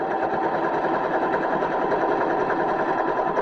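A serger runs a rolled hem along the edge of a Thanksgiving napkin, making a continuous, even, close motor whir with no pauses.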